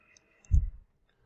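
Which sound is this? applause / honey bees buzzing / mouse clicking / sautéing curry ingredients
mouse clicking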